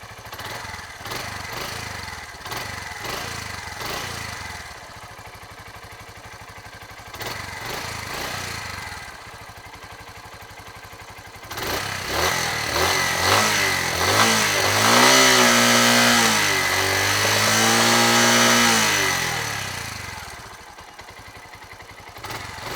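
A 2009 Suzuki TU250X motorcycle engine idles with a steady thump, then revs up for several seconds, its pitch rising and falling before dropping back toward idle, heard close and alone.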